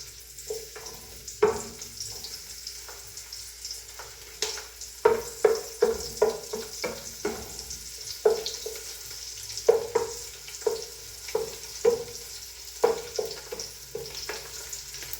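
Chopped garlic sautéing in hot cooking oil for an ubod afritada, a constant low sizzle broken by repeated sharp clacks and scrapes of a spatula stirring the pan, close and clear with no talking.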